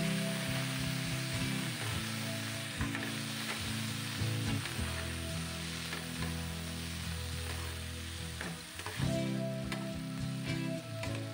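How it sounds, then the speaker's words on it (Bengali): Potatoes fry in hot oil in a pan with a loud, steady sizzle, broken now and then by the clatter of a utensil stirring close by. "এরপর কিন্তু আমি আলু ভাজবো।"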